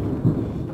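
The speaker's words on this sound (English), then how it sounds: "got a nice little thunderstorm off in the valley" Thunder from a thunderstorm off in the valley, heard as a short, deep low rumble with a single brief swell and rain faintly in the background.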